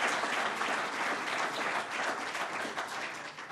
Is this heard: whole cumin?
no